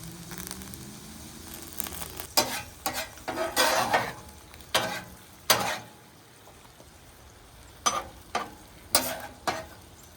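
A steak on a Blackstone griddle cooking in a Jack Daniel's whiskey and butter sauce, a steady sizzle broken by louder spatters and scraping as the meat is tossed back and forth, with no voices.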